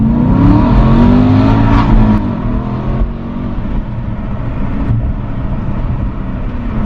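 A 2014 Aston Martin V8 Vantage engine pulls hard with a loud rising growl that climbs in pitch, then settles into a steadier drone, heard up close from inside the car.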